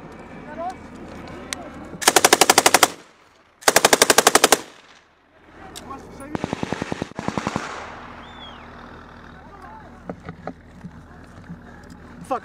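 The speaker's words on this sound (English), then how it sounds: "Who the fuck's that shooting behind us?" Bursts of rapid automatic rifle and machine-gun fire on a battlefield in Ukraine, loud and close, come in three long volleys with scattered single shots between, while soldiers shout and talk in the background.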